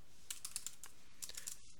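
Fingers tapping out a sentence on a computer keyboard, a light, quick sequence of faint clicks in two short bursts with a brief pause between, close up and quiet.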